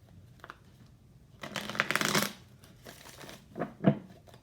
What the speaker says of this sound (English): We'll just start out with tarot cards, shuffle them up, see what messages come out for Cancer.